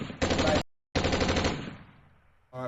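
Rapid bursts of gunshot sound effects in a rap song, loud rattling volleys in two blocks separated by a brief silence, the second tailing off before music returns.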